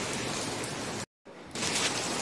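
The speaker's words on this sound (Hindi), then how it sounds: "ये देखो हमारे यहाँ कितनी बारिश हो रही है और हवा भी बहुत चल रही है।" Heavy rain driven by strong wind in Roorkee makes a dense, loud, continuous roar of rain. It cuts out for a brief moment, then returns even stronger and brighter, with no talking.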